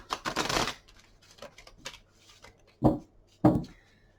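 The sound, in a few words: shuffling cards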